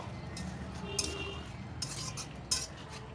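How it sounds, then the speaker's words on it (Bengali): A utensil clinks and scrapes against a pot while thankuni (pennywort) leaves are stirred into a simmering jhol curry, with a few distinct metallic knocks over a low, steady bubbling background. "সমস্ত পাতাগুলো দিয়ে আরেকবার নাড়িয়ে চাড়িয়ে নেব"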